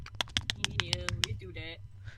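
Sharp clicking keystrokes on a mechanical keyboard, about eight quick taps in an irregular run, close and fairly loud, with a low hum underneath and a brief tonal sound near the end.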